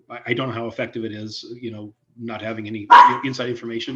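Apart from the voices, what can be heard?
dog barking in home office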